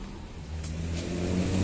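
Vehicle 43 OC pulling out of the Sumber Alam pool in Jogja, its engine revving up in a steady, building rumble close by, with no talking.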